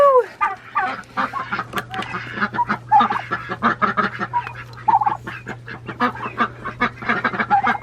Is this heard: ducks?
yes